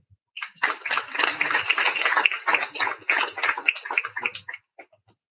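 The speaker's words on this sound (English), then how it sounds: "Let's welcome them with a round of applause." A round of applause from an audience welcoming guests at an inauguration ceremony for a digital technology center, dense clapping starting abruptly, holding for about four seconds and then tapering off to a few last claps.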